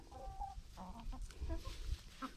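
Chickens cluck softly in a backyard coop during evening chores, with short broken clucks and low murmurs scattered over a low rumble, fairly close but not loud.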